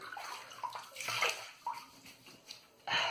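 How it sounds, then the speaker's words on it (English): Water splashes and sloshes close by as hands scoop it onto a face before a shave, coming in a few brief wet bursts with a final louder splash at the end. "let's begin to wet my face and start this shave"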